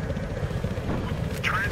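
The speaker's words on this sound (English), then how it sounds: "Transport helicopter." A transport helicopter in the video game Battlefield Hardline, a brief low rotor rumble heard beneath voices talking over it.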